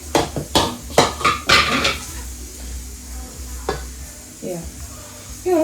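A mixture is stirred in a pan on the stove, with several loud scraping and clattering strokes at first, followed by a low sizzle with occasional utensil knocks.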